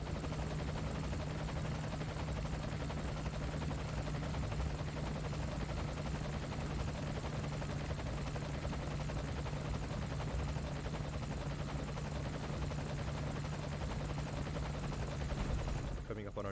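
Steady, loud rotor thump and turbine drone of a helicopter in flight in the video game Metal Gear Solid V: The Phantom Pain, continuous throughout with a narrator speaking over it.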